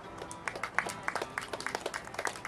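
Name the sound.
festival audience applauding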